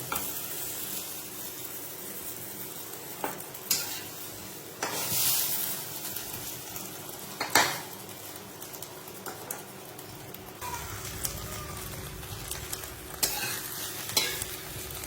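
Soft sizzle of egg frying in a pan with occasional scraping and stirring clatters from a utensil, close by and fairly quiet.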